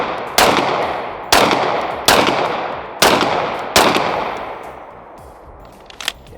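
Five loud, sharp pistol shots from a Lone Wolf Arms Timberwolf 19X at an outdoor range, fired at a steady pace roughly a second apart, each followed by a ringing decay, with a faint click near the end.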